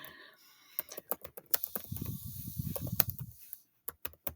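Bursts of keyboard typing, sharp separate key clicks in irregular clusters, close and fairly crisp, with a soft rustling hiss in the middle.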